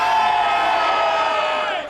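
A small crowd shouting together in a sustained, loud cry that holds steady and tails off at the end.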